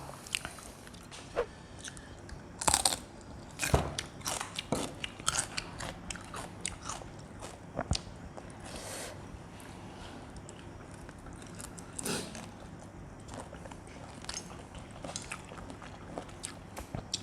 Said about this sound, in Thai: เสียงกรอบ